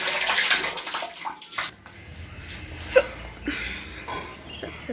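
Water pouring into a bucket, a loud rushing splash at first that stops abruptly and gives way to quieter sloshes and drips, with a voice faintly in the background.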